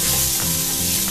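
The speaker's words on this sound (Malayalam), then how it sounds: "ടൊമാറ്റോയും കൂടെ ചേർത്ത് നന്നായിട്ട് ഒന്ന് വഴറ്റിയെടുക്കണം" Tomatoes sauté with onions and spices in a pan for a vegetarian meal, giving off a loud, dense, continuous sizzle that fills the whole moment without any voice.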